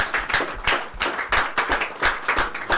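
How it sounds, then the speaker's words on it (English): Applause from an audience at a Nigerian radio programme event, a burst of uneven hand claps with a few heavier strikes, fairly close and steady for a few seconds with no talk over it. "please, a round of applause for them, please."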